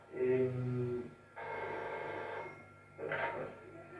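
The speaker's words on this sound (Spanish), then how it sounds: "justo sonó el teléfono, yo no lo desenchufé" A landline telephone rings indoors in three separate bursts, each a buzzy electronic ring lasting about a second with short gaps between, moderately loud in a quiet room.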